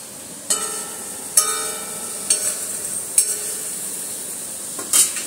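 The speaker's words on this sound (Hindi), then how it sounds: "अब इसको अच्छे से मिक्स कर लेना है" A spoon stirs curd into a cooking mixture in a metal pot, producing a few sharp clinks against the rim at irregular intervals over a faint, steady background hiss.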